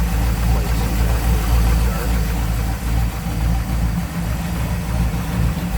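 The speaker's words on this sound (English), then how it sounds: "There's your 350 Chevy V8." A 350 Chevy V8 in a 1953 Chevrolet 3100 pickup street rod idles with a steady, loud low rumble, running evenly throughout at close range.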